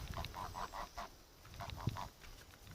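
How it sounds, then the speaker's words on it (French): Hens gathered near their henhouse cluck in quick bursts of short nasal calls, a few repeated notes at a time, fairly near over quiet outdoor background. "Regardez les poules là, elles veulent rentrer toutes dans le poulailler"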